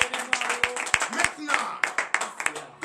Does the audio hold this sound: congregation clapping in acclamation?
yes